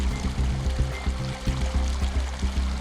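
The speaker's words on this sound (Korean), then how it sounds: "강에서 퍼올린 녹조물은 농수로를 따라 논으로 흘러들어갑니다." Algae-laden river water pumped from the Nakdong River pours along an irrigation canal toward rice paddies, a loud, continuous rushing gush with a low rhythmic pulsing beneath, likely from a nearby pump.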